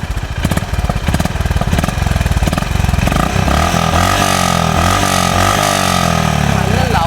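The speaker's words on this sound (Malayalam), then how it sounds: "നല്ല ലൗഡ് എക്സോസ്റ്റ് അല്ലേ ഇത്." Honda CB 350 RS single-cylinder, long-stroke motorcycle thumping from its loud exhaust in a rapid, even pulse at close range, the beat loosening toward the end, with someone talking over it.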